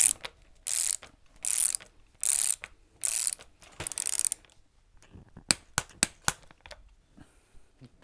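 A torque wrench ratchets to tighten the top cap on a bicycle suspension fork, with several bursts of rapid clicking followed by a few sharp, separate clicks as it reaches torque, loud and close.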